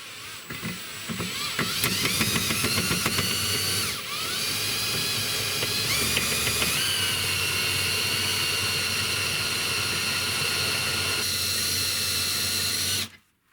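An OrixPlus deburring tool driven by a power drill shaves burrs off the end of a cut bolt, making a loud, steady high-pitched whine that dips briefly once and then cuts off sharply at the end.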